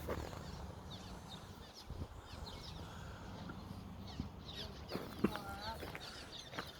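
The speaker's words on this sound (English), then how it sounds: "Look at all these birds" Chickens and other fowl at a nature preserve cluck and call in scattered bursts over a steady outdoor background, with a few sharper close calls standing out.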